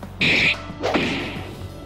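Objects smashed in the video game Actual Sunlight: a sharp bright whack with ringing sustain, then a second crashing impact that decays over about a second, fairly loud with no talk.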